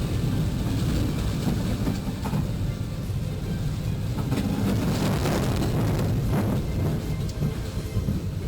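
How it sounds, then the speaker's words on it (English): A train rumbles past on railroad tracks, a dense, continuous low roar with rattling and clattering wagons at close range, swelling slightly toward the end, and no clear speech. "Remember, never try to cross when a train is coming."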